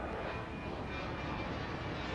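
A jet airliner takes off in the airport control game Airport Madness, a steady, loud engine roar that fills the moment without pause or talk.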